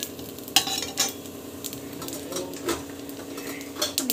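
Mustard seeds crackle and sizzle in hot oil while tempering for mango rice, a steady frying hiss broken by sharp pops and light utensil clicks, close and moderately loud with no talking.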